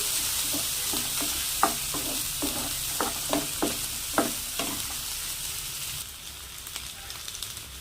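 Sliced onions and green chillies fry in a hot pan, a steady sizzle overlaid by a run of sharp spatula scrapes and stirring knocks that fade out near the end.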